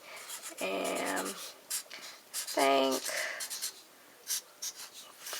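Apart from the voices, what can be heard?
writing a sentence with a Sharpie marker on paper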